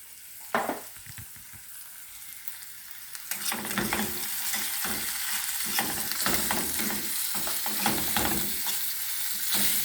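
Saltfish hitting a hot pan with mixed vegetables for Jamaican-style cooking, a steady sizzle of frying broken by stirring scrapes and clatters that grow busier and louder toward the end.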